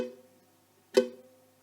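A faint, short plucked ukulele note sounds, dull and quickly damped from too little finger pressure, following the tail of an earlier ringing tone.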